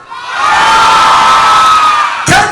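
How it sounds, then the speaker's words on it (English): A large audience at a live science show at Butlins Minehead, many of them children, cheers loudly in a sustained roar of shouts and whoops that swells quickly and holds before a short burst at the end. "Can you not still cheer?"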